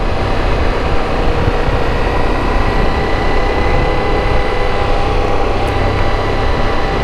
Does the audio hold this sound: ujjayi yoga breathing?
no